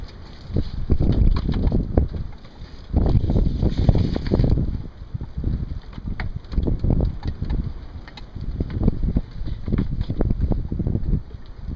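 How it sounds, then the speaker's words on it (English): Gusts of wind rush and buffet the microphone in uneven waves, swelling and easing with no one speaking. "it's windy up here."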